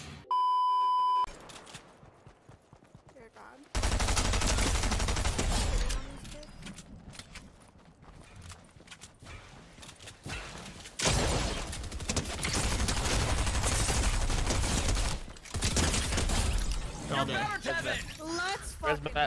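Rapid bursts of gunfire from an online shooter game, loud and dense, alternating with quieter stretches and electronic beeps, with players talking over the action.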